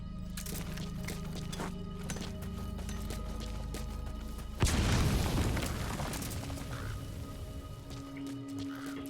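An explosion in Metal Gear Solid V: The Phantom Pain bursts out midway as a loud, close blast, then a rumble that fades over the game's ambient background.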